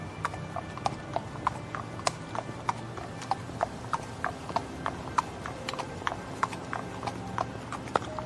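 Horse hooves clip-clop in a steady, regular rhythm as a messenger rides away quickly in a cartoon, crisp and fairly quiet over a faint background.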